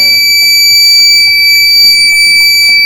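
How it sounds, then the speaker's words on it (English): A loud, steady electronic buzzer tone sounds continuously from an over-voltage protection circuit's alarm, a piercing high-pitched whine with faint low hum beneath and no pauses. "the over voltage protection enables the alarm and LED and the contactor is turned off"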